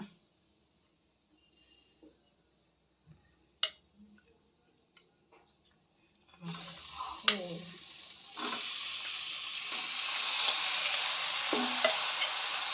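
Chicken pieces dropped into a hot pan for a homemade curry, starting as sparse clicks and knocks, then breaking into a loud, steady sizzle with occasional scrapes of stirring, and a few voices talking faintly.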